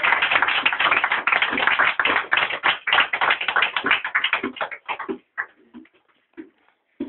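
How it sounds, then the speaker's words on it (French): A church congregation claps hard and fast together in praise, a dense rapid patter of many hands that thins out to a few scattered claps and then stops. "On acclame le Seigneur très très fort."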